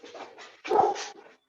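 A dog gives a few short, close yelps, then one louder, fuller bark, with no talking over it.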